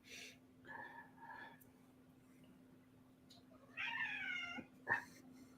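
House cat giving several soft meows, short and spaced apart, with a brief louder cry near the end, over a faint steady hum in a quiet room.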